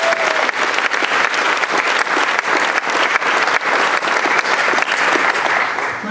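A large conference audience of engineering volunteers claps in a loud, sustained round of applause, dense and even throughout with a faint crowd murmur beneath.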